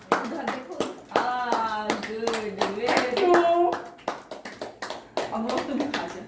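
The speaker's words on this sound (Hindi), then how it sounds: "अरे बड़ी ताली तो जोर से बजाओ।" Rapid hand clapping from a small group at a family birthday celebration, brisk and close, mixed with singing and cheerful talking voices, including a child's, throughout.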